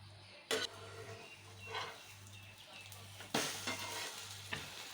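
Bread omelette egg mixture frying in a pan, a soft steady sizzle with a low hum beneath, broken by a few sharp scraping and stirring clatters of a utensil against the pan.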